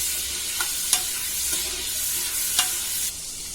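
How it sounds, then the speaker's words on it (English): Bay leaves frying in hot oil for a goat leg kurma give a steady, close sizzle, broken by a few sharp ticks and clicks of the spoon. "I'm going to put about 3 or 4 bay leaves, and I will fry it."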